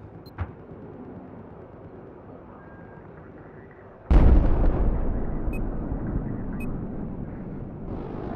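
An enemy missile explodes in the video game Battlefield 4, a sudden loud boom after a quiet stretch, followed by a long roaring rumble that slowly fades.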